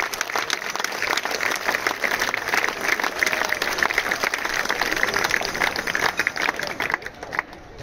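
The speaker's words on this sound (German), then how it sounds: "mit einem kräftigen Applaus," Crowd applause at an outdoor protest demonstration in Schwyz, a dense, steady patter of many hands clapping for several seconds, fairly near and even, tapering off toward the end.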